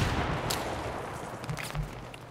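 Gunfire in the first-person shooter Battlefield 3 during a PC Rush match, with a few sharp shots standing out over a dense, steady wash of distant battle noise.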